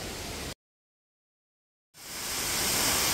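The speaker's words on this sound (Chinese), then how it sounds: "这就是 云深瀑布。" Rushing roar of Yunshen waterfall on a mountain trail, a loud broadband wash that cuts out briefly to silence and then returns, swelling steadily louder.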